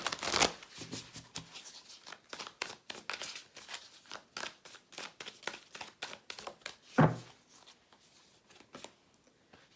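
Oracle cards shuffled and drawn by hand during a reading: a quick run of crisp, papery riffles and flicks, close and fairly loud, with one sharper snap near the end and no talking.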